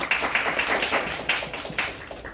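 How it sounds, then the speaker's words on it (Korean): A small audience of invited overseas Korean journalists claps at a press meeting, giving moderate, fairly close applause with a few sharper accents. "뜨거운 박수를 부탁드립니다"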